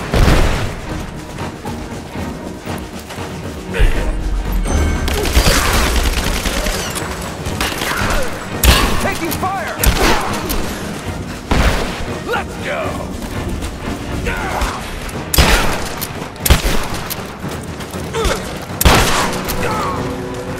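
Repeated gunfire from a firefight in the video game Rise of the Tomb Raider, with loud bursts and sharp shots recurring across the whole stretch amid booms and clatter, with voices faintly underneath.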